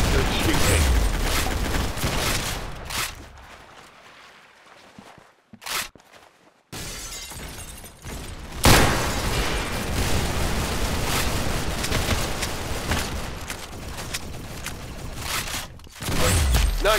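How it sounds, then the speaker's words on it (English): Gunfire in the Roblox game Arsenal fills the mix with loud, dense, crackling bursts and booms, broken by a short quieter lull partway through before the shooting resumes. "Very good shooting."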